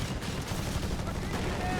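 Sustained covering gunfire from infantry in the Company of Heroes 3 strategy game, a dense, continuous crackle of rapid shots filling the whole short stretch without pause.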